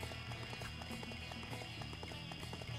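Horse hooves clip-clopping at a steady galloping rhythm in the video game Dynasty Warriors 4, a continuous run of hoofbeats over a low game soundtrack, with no talking.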